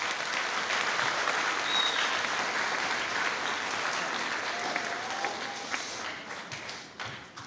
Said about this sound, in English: So can I get a round of applause for these kiddos?